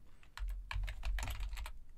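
Close, crisp keystrokes on a computer keyboard, about a dozen taps in quick uneven bursts with a few brief pauses, and no voices.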